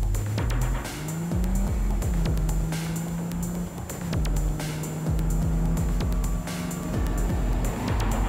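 A car in the video game Cyberpunk 2077 drives with a continuous loud engine that rises and falls through gear changes, with occasional tire noise and clunks, and no talk over it.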